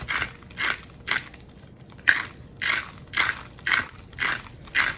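Pink salt is ground over flat iron steaks in about nine evenly spaced, close crunchy grinding bursts with short quiet gaps between them.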